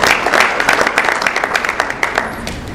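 Scattered hand clapping from an audience at a mayor's State of the City address in Lancaster, a steady patter of claps lasting a few seconds without a strong swell.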